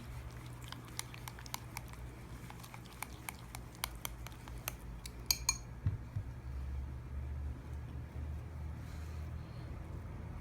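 Spoon clinking repeatedly against a bowl while baking soda is stirred into yogurt for sweet cinnamon buns, sharp irregular taps over a low steady hum, stopping about halfway.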